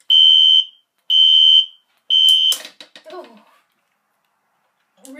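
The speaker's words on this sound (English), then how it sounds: "It's on low volume code 3, and this is how loud it is on low volume." Three loud, piercing electronic fire alarm tones on low volume setting, code 3, in a regular on-off pattern, followed by a brief burst of crackly noise and some faint chatter.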